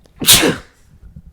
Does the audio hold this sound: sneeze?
yes